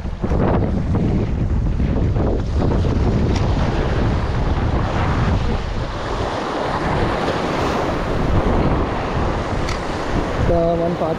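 Strong wind gusting across open sea during shore-based fishing for giant trevally, roaring through the microphone over the rush of waves and surf, loud and continuous throughout.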